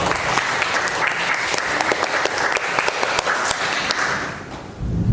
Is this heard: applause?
yes